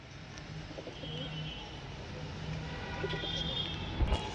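Lal Jira pigeons, a large male and female pair, coo softly in low, intermittent murmurs against a steady background hum, with a brief knock near the end.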